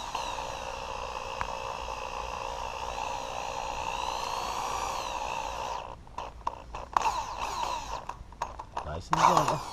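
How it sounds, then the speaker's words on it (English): A power drill whirs steadily for several seconds, then runs in short stop-start bursts as self-tapping screws are driven in, close by, installing a metal garden gate on wood. "we'll put these in with the drill"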